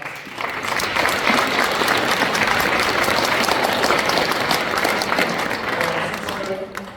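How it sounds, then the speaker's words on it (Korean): An audience at a commemorative ceremony gives sustained, loud applause for a bestselling novelist, a dense wash of many hands clapping that carries on for several seconds before easing off near the end. "박수로 하겠습니다"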